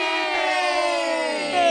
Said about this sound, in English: As the crowd goes wild, Bill drops to his knees.